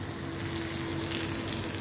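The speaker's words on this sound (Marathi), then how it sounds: "आता मस्त कारले फ्राय झालीत माझी छान" Bitter gourds (karela) fry in a pan with a dense, continuous sizzle and crackle, close and steady throughout with no voices.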